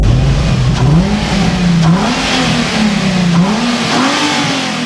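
A 2008 Nissan 350Z's naturally aspirated V6 revs up and down repeatedly, its pitch climbing and falling in waves, loud and close with no talking.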